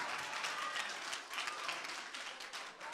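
Congregation applauding at a church revival meeting, a steady, fairly quiet wash of many hands clapping that carries evenly through the whole stretch without a break.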